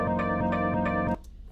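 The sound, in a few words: keyboard chord played back in Transcribe software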